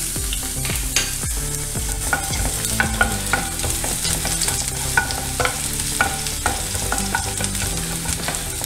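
Crushed ginger and a few cloves of garlic fry in a hot pan, with steady crackling sizzle and repeated scrapes and knocks of a stirring spoon, close and fairly loud, no talking.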